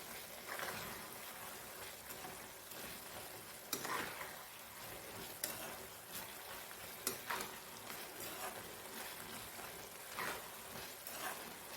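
Carrot halwa with cardamom powder frying and being stirred in a pan, a steady close sizzle broken by repeated scraping strokes of the spoon across the pan, alone without voices.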